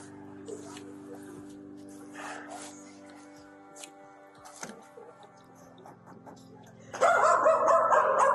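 Quiet room noise and scattered shuffling, then a dog breaks into loud, high yapping barks close by at the end.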